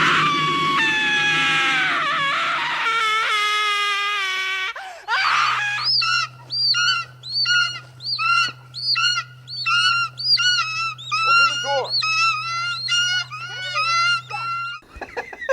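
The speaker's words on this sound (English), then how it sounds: "we have a stock scream which is used in the beginning with the frequency of the birdemic squawk" A stock scream sound effect from a low-budget vampire film starts as a long wailing cry, then breaks into a run of rapid, shrill, bird-like squawks over a steady low hum. The sounds are loud and harsh.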